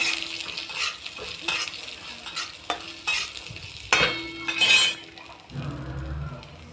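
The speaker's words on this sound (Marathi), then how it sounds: "कढीपत्त्याचे पानं टाकू. चांगलं हलवून घेऊ." Garlic, coriander seeds and curry leaves frying for garlic chutney, stirred with repeated metal spoon scrapes and clinks against the pan over a crackling sizzle, with a louder burst near the end and then a quieter hiss.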